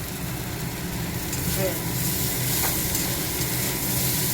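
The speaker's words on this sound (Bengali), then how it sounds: "এটা একটু ভেজে নেই ভালো করে" Steady sizzle of fish frying in a pan, being cooked for a fish curry, runs continuously at close range with faint stirring noises mixed in.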